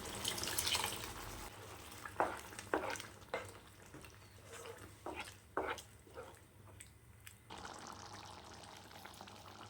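Water is poured briefly into mushroom gravy, then faint bubbling and spoon stirring scrapes follow in quiet, irregular bursts.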